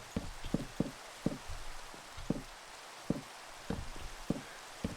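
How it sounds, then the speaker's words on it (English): Rain falling in the Minecraft SkyFactory 3 game world, a steady soft patter with scattered sharper drop-like ticks at an irregular rhythm, moderately quiet and with no talk over it. "I actually don't mind the rain"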